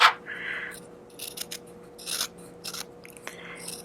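Scissors snip and rasp through fabric for a no-sew face mask, with short crisp cuts and rubbing scrapes close by, several quick bursts spread over a few seconds.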